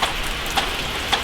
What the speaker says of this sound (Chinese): 下雨下的不停的， 雨不停的